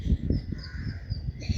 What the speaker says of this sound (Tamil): ஒரு வேளை கிளவியோட காக்கா கத்துதா?